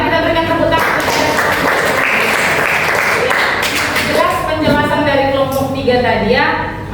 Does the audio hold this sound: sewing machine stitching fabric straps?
no